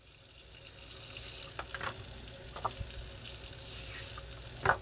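Tap water runs steadily into a sink to soak the tray, filter and dirty water tank of a Yeedi M14 Plus robot vacuum, a continuous rushing wash with a few small clinks of parts near the end.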